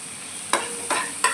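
Ground spices, Kashmiri chili and turmeric, being stirred in a pan over a lowered gas flame, with three distinct scraping strokes over a faint steady sizzle.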